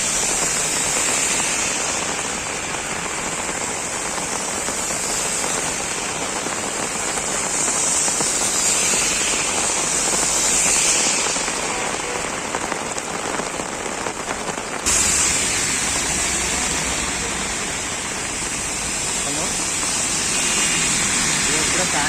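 Heavy rain pours steadily in Hyderabad, a dense hiss of drops hitting surfaces that stays loud throughout without pause.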